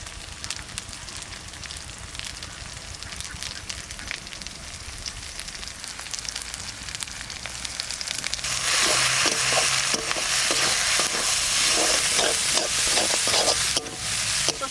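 Onion and spice paste sautéing in a pan while being stirred for a green jackfruit curry, a steady close sizzle that swells louder partway through, with scraping stir strokes and no talking.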